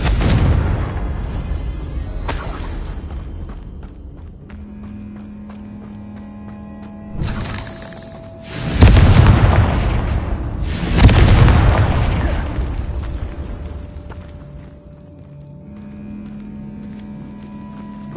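Confringo fire spell explosions in Hogwarts Legacy on PlayStation 4 Pro, inside a decayed catacomb: several loud, deep booming blasts over a steady game ambience, the biggest bursts landing close together mid-clip.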